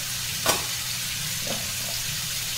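Fried coconut being stirred in a hot pan, giving a steady low sizzle with a sharp scrape of the spatula near the start and a softer one later, and no voices.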